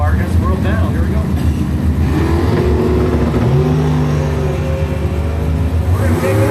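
A dragster launches off the line in a drag race qualifying run, its engine roaring loudly and rising in pitch as it pulls away, with a commentator talking over the noise.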